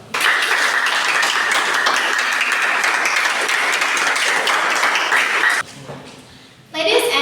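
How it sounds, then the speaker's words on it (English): Dense, steady audience applause for forum speakers at an academic speaking event fills the room for several seconds, then cuts off abruptly into near silence before a faint sound returns. "Let us give a big round of applause to all our distinguished speakers"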